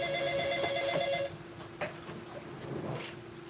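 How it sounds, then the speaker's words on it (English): A cell phone rings with a steady electronic tone that stops partway through, followed by some faint handling noise and background sounds, no speech. "She got a call on the cell."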